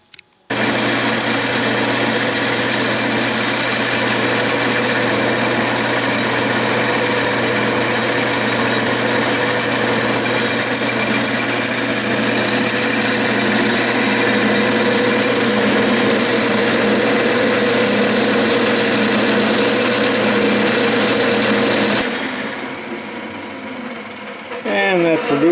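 A metal lathe cuts with a new carbide tool bit in a workshop, giving a steady, loud, continuous whirring grind with sustained tones that runs unbroken for over twenty seconds before cutting off near the end.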